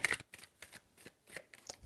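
Tarot cards are shuffled in several quick, crisp riffling bursts separated by short pauses, close and alone.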